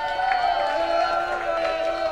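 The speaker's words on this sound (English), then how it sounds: "Come on, give it up for them." A crowd at a live metal gig at The Monarch in Camden cheers for the support band from Nottingham, with a steady roar of noise over a sustained amplifier drone.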